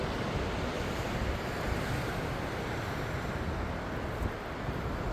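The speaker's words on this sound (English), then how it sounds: "You can also see the creek over here." Creek water flowing steadily beside a campsite with a picnic table, bear box and fire pit, a continuous broadband rush that holds even throughout, with some wind buffeting the microphone and no talk.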